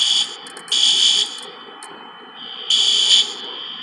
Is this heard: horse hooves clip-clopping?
no